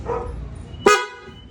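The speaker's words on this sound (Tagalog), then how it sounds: "So, via horn, testing." One brief, loud horn toot from a Honda Click 125 scooter fitted with a PIAA horn bursts out of a steady low rumble, then stops quickly, leaving quieter background noise.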